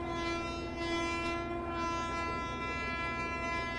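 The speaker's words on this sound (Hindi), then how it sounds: "और मुझे कोई दूसरे हॉर्न की भी आवाज़ आ रही है यार, ये फ्राइट ट्रेन की तो नहीं है।" A train horn sounds continuously in the Open Rails train simulator as another train overtakes, a steady loud sustained tonal blast over rumbling rail noise.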